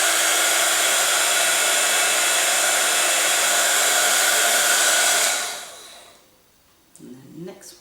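A heat tool blasts a loud, steady roar for about five seconds while heat setting embossing powder on a snowflake card, then cuts off to near silence, followed by a few faint rustles.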